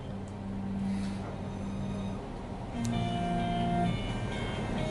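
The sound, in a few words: city light rail train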